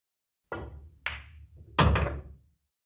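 Pool balls on a table during a cue ball shot with inside spin, a sharp cue strike followed by a ball click and a heavier knock as balls collide, close and clear.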